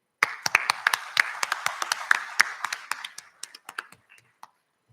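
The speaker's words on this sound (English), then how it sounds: "Let's have a big round of applause for all the esteemed guests and students present here today." Audience applause at an inaugural ceremony for a new PGDM batch at a business school: a burst of crisp hand claps starts abruptly, holds steady for a few seconds, then thins to scattered claps and stops, with no talk over it.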